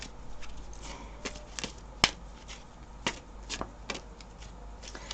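Gospel of Aradia oracle cards being shuffled up close, with soft repeated riffles and flicks in an irregular rhythm and one sharp snap, quiet and without talk.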